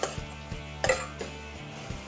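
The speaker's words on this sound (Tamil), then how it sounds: "இதையும் நம்ம நல்லா வதக்கிக்கலாம்." Chopped onion stirred in a pan for masala oats, a series of light metallic clinks and taps of the spatula against the pan at irregular intervals, close and fairly quiet, with no speech.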